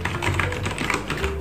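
Typing on an Aula F2088 mechanical keyboard with brown switches, a steady rapid patter of keystroke clicks, close and fairly loud.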